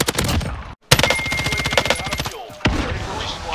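Rapid automatic weapon fire in a video game, a fast steady burst of shots with a brief gap, then a few more rounds, loud and close with players chatting quietly underneath.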